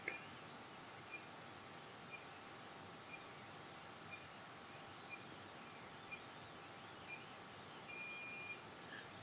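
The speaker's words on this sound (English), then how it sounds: "You'll hear some beeps in the background as the timer is telling us" Race timing system timer sounding a series of faint, short beeps at regular intervals of roughly one second while shutting down, over a steady background hiss, with a slightly longer tone near the end.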